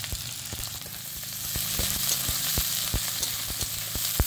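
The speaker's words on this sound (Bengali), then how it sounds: "এখন দিয়ে দিচ্ছি পেঁয়াজ কুচি" Chopped onion dropped into hot oil with garlic and ginger for vegetable chow mein, a steady sizzle with sharp crackles and occasional utensil clicks, close and without speech.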